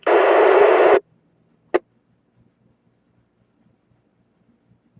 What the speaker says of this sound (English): Well, sounds like a pretty interesting radio.